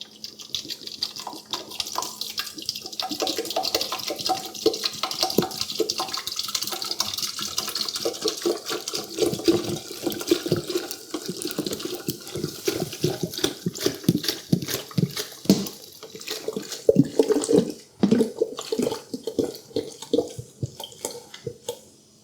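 Soda draining from an upturned 2-liter bottle into a 3-liter slush machine tank, a continuous gurgling, glugging pour with irregular bubbly bursts, close and fairly loud throughout.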